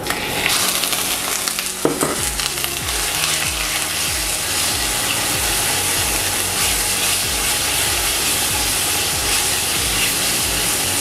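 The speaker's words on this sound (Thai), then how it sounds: "เสร็จแล้วเราก็เอากระเทียมสับลงไปผัดนะครับ ผัดให้มันหอมนิดนึง ตามด้วยหมูนุ่มนะครับ" Minced garlic and tender pork stir-fry in about two spoonfuls of vegetable oil for Thai pad see ew, a loud continuous sizzle with rhythmic scraping strokes of the spatula against the pan, close and steady throughout.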